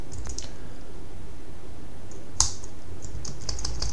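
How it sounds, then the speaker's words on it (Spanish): A single sharp key press on a computer keyboard, one faint click standing out briefly over a steady background hiss. "Venga, vamos a pulsar una tecla."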